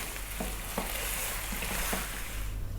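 Beef for Ethiopian potato stew (sega be dinach key wot) cooking in a pot over just-below-medium heat gives a steady, soft sizzle with faint bubbling, continuous and even, with a few light stirring clicks and no voices.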